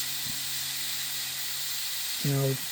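Air hisses steadily through an airbrush being dried after cleaning with lacquer thinner, a continuous close, breathy spray with short tonal buzzes near the start and end.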